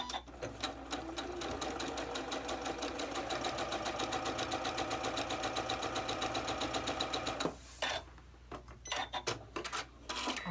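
A sewing machine stitches a quilt block seam in a fast, even mechanical rhythm for several seconds, then stops, leaving a few clunks and handling noises.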